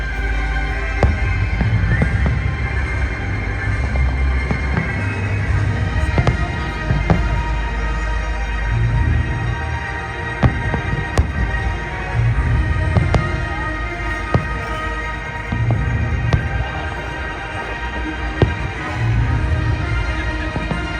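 Continuous low rumbling booms and crackles of fireworks at Global Village in Dubai, with dense overlapping thuds from a distance and no clear pauses.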